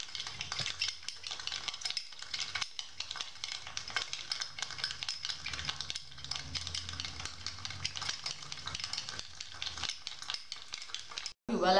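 A coffee mixture boils in a pan over the stove, with a steady bubbling sizzle and the scrape of stirring through most of the stretch, fairly quiet and close.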